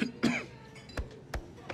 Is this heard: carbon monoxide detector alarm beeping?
no